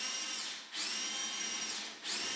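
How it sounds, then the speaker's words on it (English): A power drill with hammer action off whines steadily at high pitch, drilling through plaster on a solid wall, briefly dipping twice as it loads or pauses, with no hammering rhythm, heard up close. "I'm starting off the drill without hammer action until I get through the plaster."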